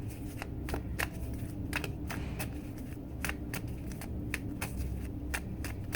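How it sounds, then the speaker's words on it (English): Tarot cards being shuffled by hand, with a run of crisp riffling flicks and snaps repeating unevenly over a low steady background hum, close and fairly quiet, with no talking. "I shuffle these cards."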